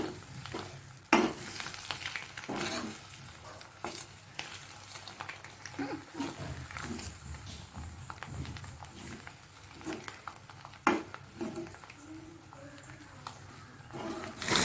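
Boiled eggs and onion fry in a pan, with a soft steady sizzle under repeated scraping and clinking strokes of a stirring utensil, heard close and at moderate volume.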